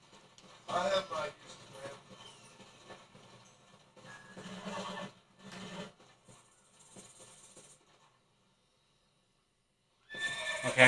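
Several video game horse whinnies and neighs in short bursts with hoof clatter, separated by quieter stretches and a brief silence before a final burst, from Red Dead Redemption.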